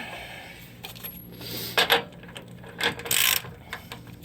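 Ratchet clicking while tightening a control arm bolt on a Dodge Ram 1500 during a bushing replacement, a few short, sharp metallic bursts close by over a quiet background, without speech.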